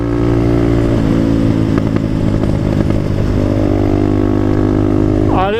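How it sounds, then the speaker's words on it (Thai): An off-road motorcycle rides along new rural roads past fields and forest, its engine a loud, continuous close drone that shifts pitch slightly and rises briefly at the end. "คลิปนี้เป็นการขี่รถเล่นแล้วกัน"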